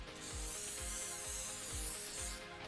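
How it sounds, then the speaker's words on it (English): Hairspray sprays onto brushed-out hair in a continuous close, soft aerosol hiss lasting a couple of seconds, with faint rubbing or handling sounds underneath and no talking. "just to pop a little bit of hairspray in"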